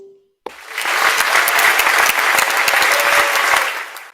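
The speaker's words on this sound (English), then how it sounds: "A round of applause, please." Applause from the audience at a Rotary club general membership meeting starts abruptly after a short tone, holds as dense, even clapping for several seconds and then fades out.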